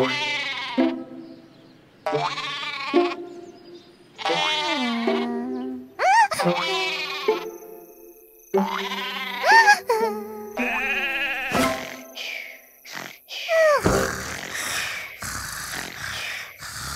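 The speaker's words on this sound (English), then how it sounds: "Sherbert counted 49 sheep and finally fell asleep." Cartoon sheep bleating in a children's number-counting app, several separate bleats in a row at close range, interspersed with brief sound effects and a few short animated voice sounds.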